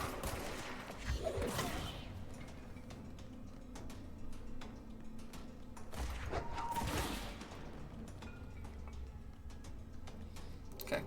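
Gunfire in the video game Control, with scattered sharp shots and small bursts over a steady background hum, some hits louder around two clusters, moderately distant rather than right up close.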